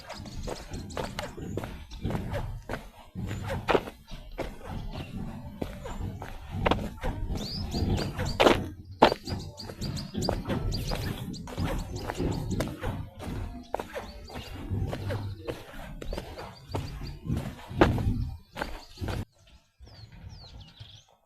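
Steady footsteps thud and crunch along outdoors in a village, close by, with faint birdsong in the background until the walking stops.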